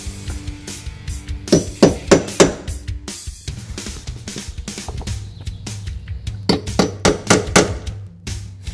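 Rapid metallic taps of a hammer striking a center punch before drilling a hole for a step on a Ford F150 or Super Duty truck, several quick bursts of close, sharp strikes with short pauses between them.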